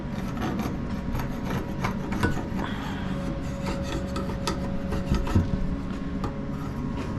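A scraper drags repeatedly along the underside of a freshly glued butcher block countertop, a steady rasping scrape with short rhythmic strokes, close and fairly loud.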